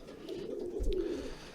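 A barred pigeon, one of the rarer coloured racing pigeons kept at an allotment, coos softly and steadily as a low, rolling murmur close by, with no talking.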